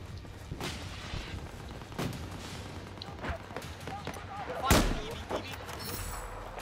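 Tank cannon and gunfire in a video game: several sharp separate blasts, one heavy boom standing out near the end, over a low rumbling background with a voice talking.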